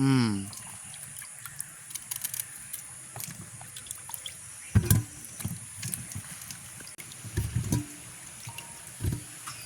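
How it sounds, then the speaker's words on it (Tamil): Plantains are washed in water outdoors in a village, with soft splashes, drips and trickles. Quiet sloshing rises and falls, with a few louder splashy bursts over a hissy background. "நாங்கள் இப்போ வாழைக்காயில் நல்லபடியாக கழுவி எடுத்துட்டோம்"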